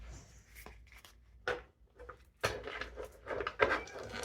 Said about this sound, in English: let's try to give them a good shuffle here